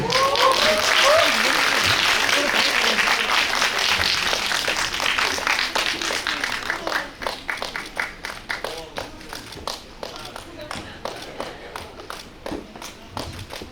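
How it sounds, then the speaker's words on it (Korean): Audience applause welcoming the actress and director to the front at a film screening Q&A event, loud and dense at first, then thinning into scattered individual claps over about fourteen seconds. "다들 큰 박수로 맞이해주세요."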